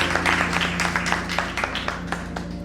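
Audience applause at a Hindi poetry recital, a brisk, dense patter of many hands clapping steadily throughout at moderate distance, with no voices over it.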